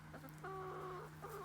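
Backyard chickens cluck over a treat of bug-filled scraps, a close, drawn-out call that rises over a steady low hum with short clucks around it and no talking.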